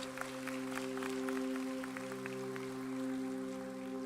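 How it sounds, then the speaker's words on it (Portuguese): Faint scattered applause from a church congregation rises over a steady sustained tonal drone, the claps soft and irregular throughout. "Pode dar um aplauso,"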